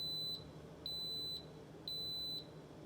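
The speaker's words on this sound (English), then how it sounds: "my Instant Pot beeped at me like about 10 times" An Instant Pot gives a high electronic beep three times at a steady, even pace, each tone lasting about half a second, faint against a quiet background.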